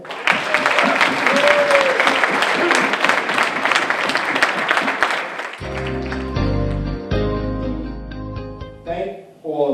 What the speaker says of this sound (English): Please join me with thunderous round of applause congratulating our county executive